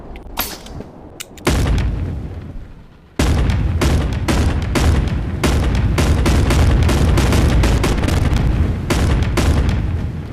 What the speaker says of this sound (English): this gun has infinite ammo